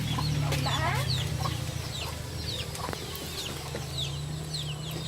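Chickens cluck and chirp in quick bursts over a steady low hum, with several birds close by and no one speaking.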